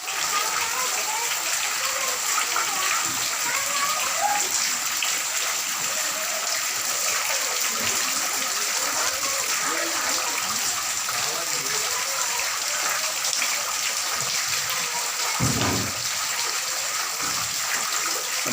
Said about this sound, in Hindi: तेज बारिश की वजह से बारिश का सारा पानी आवाम के घरों में घुस गया है।